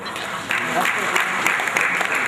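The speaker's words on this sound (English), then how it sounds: "Please, once again, a round of applause for yourselves." Dense, sustained audience applause fills a lecture hall at the Nigerian Institute of Quantity Surveyors' annual distinguished lecture, steady and moderately loud throughout, with a voice faintly audible underneath.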